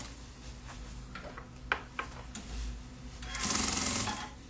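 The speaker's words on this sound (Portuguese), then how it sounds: "costura pra baixo e venho pespontando aqui" A domestic sewing machine topstitches seams on a fabric handbag, with scattered small ticks and handling clicks, then a short burst of close, whirring stitching near the end.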